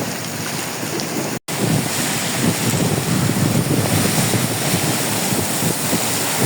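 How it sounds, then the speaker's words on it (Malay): Air rushing out of a drain pipe makes a loud, steady, close roaring hiss like wind noise, broken by one brief dropout near the start, with no talk. "Benda ni longkang, tapi kenapa dia keluar angin?"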